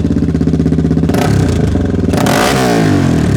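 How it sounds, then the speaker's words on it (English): A 1996 Honda XR400 off-road motorcycle engine runs loud and close, its thumping single-cylinder idle giving way to sharp revving bursts with mechanical clatter. "Probably the most bulletproof, indestructible Honda off-road bike ever made."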